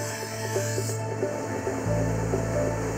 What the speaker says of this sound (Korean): 어느 정도 윤곽이 잡힌 칼은 날을 세워줍니다